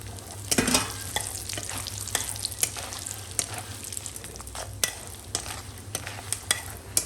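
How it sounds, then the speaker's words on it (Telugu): Peanuts and dried red chilies fry in hot oil for an instant pulihora mix, giving a steady close sizzle broken by frequent scraping and clinking stirs. "పల్లీలు కూడా బాగా వేగితే బాగుంటుంది టేస్ట్"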